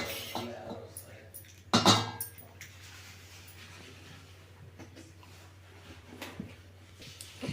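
A frying pan set down and shifted on a home kitchen stove, giving a sharp metallic clatter near the start and then faint scattered clinks and scrapes against low background hum.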